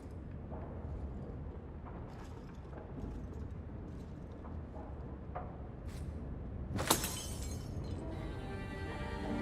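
Glass shattering against a wall in a video game, a single sharp crash with a bright spray of breaking shards standing out over a low, steady background rumble.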